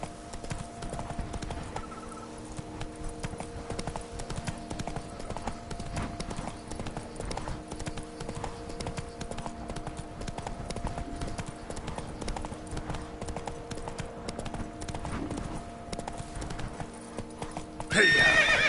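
A horse in Witcher 3 gallops with a steady, rapid clip-clop of hooves throughout, and a neigh rings out near the end over the game's background music.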